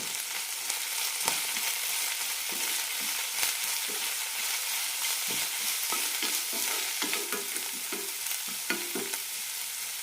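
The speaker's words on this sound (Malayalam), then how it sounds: "ചെറുതായി മുറിച്ച ശേഷമാണ് ഇട്ടിരിക്കുന്നത് നന്നായി വഴറ്റാം" Finely chopped coriander leaves sautéed in a pan for a chutney, a steady close sizzle broken by repeated spatula scrapes and stirring knocks.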